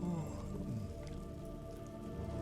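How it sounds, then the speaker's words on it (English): Steady rain falls in a Spanish vampire horror video game, a dense, continuous patter that stays even and close throughout, with a faint voice murmuring beneath it. "I still can't get used to the rain."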